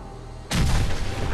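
A Fallout 4 game explosion goes off abruptly after a quiet moment, a loud broadband blast that stays rumbling and roaring without fading.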